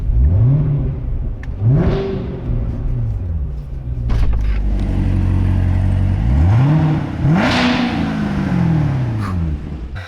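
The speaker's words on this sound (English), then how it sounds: "Let me rev this up for you guys real quick." A Chevrolet Corvette ZR1 engine revs up loudly several times close by, each sharp climb in pitch falling back to a deep idle rumble between blips.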